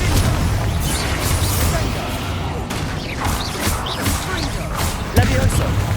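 Explosive spell blasts boom amid a chaotic Hogwarts Legacy battle, with repeated sharp cracks and crashes layered over dense combat noise, and voices shouting in the mix.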